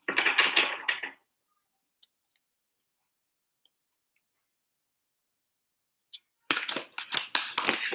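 Tarot cards riffle and flutter in quick bursts of papery snapping at the start and again near the end, with near silence in between.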